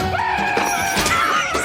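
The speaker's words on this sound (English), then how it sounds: "Screaming." Loud, strained screaming from a Loki episode, one voice wailing continuously for under two seconds with shifting pitch, no other talk over it.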